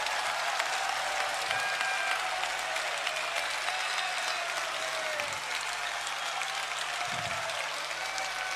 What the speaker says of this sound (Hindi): यदि आप लोगों को अच्छा लग रहा है तो ताली बजाइए।